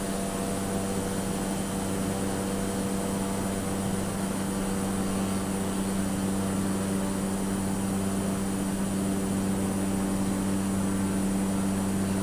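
Cessna 208 single-engine turboprop taking off in Microsoft Flight Simulator, a loud steady propeller and engine drone with a constant hum, continuous and without talk.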